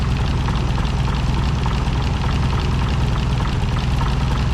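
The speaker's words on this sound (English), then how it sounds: "I don't think it's idling quite as smooth as it did with the Chevrolet" An Oliver 880 tractor engine with a replacement carburetor idles steadily with a low, throbbing rumble and slight knocking vibration, close and constant with no talking.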